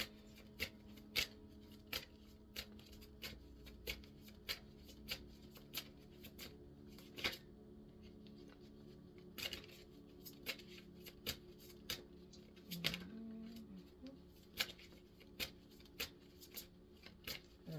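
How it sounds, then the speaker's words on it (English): Tarot cards being shuffled make repeated crisp riffling snaps at a loose, uneven rhythm, close and quiet, with faint low talk in the background. "it's taking a minute for a card to pop out"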